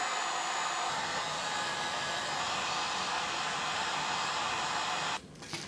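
A heat gun blows steadily and loudly while shrinking shrink wrap around a mini skeleton for a mummified fairy prop, the constant airy roar running alone for about five seconds before cutting off abruptly near the end.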